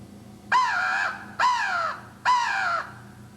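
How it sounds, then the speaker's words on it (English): Three loud, harsh caws from a crow call used in turkey hunting, in a steady rhythm, each nasal and drawn out, close and prominent over a quiet background. "used both the owl and the crow call to find out exactly where these turkeys were"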